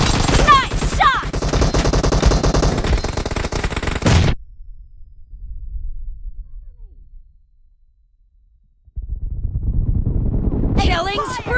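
Rapid automatic gunfire in PUBG rattles loud and close for about four seconds, then a lull with faint low noise before another loud burst of firing and game sounds resumes.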